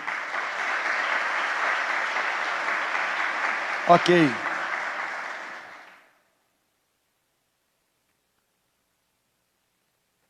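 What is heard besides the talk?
church congregation applauding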